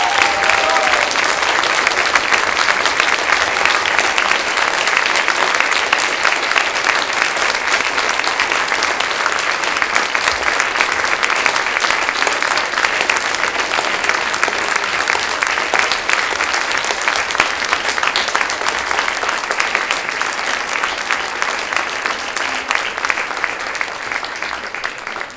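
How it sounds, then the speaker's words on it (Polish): Big, sustained round of audience applause at a Polish community gathering, dense and steady for the whole stretch, loud and close, thinning only slightly near the end. "wielkie oklaski"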